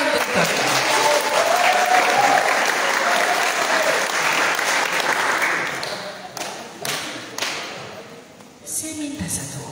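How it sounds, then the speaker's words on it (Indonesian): Students at a leadership training session applaud the head of the student executive board: loud group clapping for several seconds that thins into scattered individual claps, with a few voices near the end. "Tepuk tangan untuk kakak"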